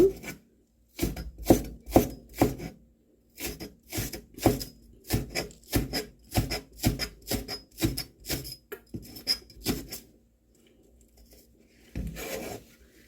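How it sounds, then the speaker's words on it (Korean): A kitchen knife slices green onion diagonally on a cutting board in quick, crisp, evenly spaced chops, two rapid runs separated by brief pauses, close and clear with no speech. "파도 썰어서 넣었어요"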